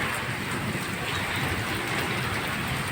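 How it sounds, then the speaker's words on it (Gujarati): Heavy rain pours down in a storm, a loud, steady, even hiss of downpour drumming on surfaces close by, with no voices over it. "આ વરસાદ વાવાઝોડું ધૂમ મચાવી રહ્યું છે, જોઈ શકો છો મિત્રો।"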